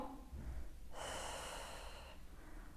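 Deep, slow breathing during a pregnancy exercise with a hoop: a long audible exhale of air, close and quiet, with no talking.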